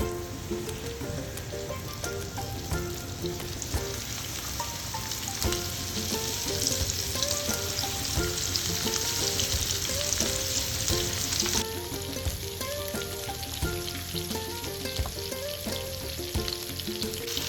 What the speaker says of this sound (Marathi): आता तेल गरम झालं आहे आता आपण त्यात एक एक मासा फ्राय करून घेऊया